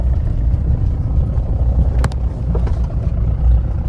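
A Mahindra Bolero SUV rolls along with a steady low engine rumble and road noise, plus a couple of brief clicks partway through; no one speaks.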